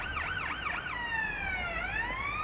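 Ambulance siren in Ambulance Life: A Paramedic Simulator, a loud wailing yelp that sweeps rapidly up and down, then shifts into slower steady rising and falling tones, heard alone and close.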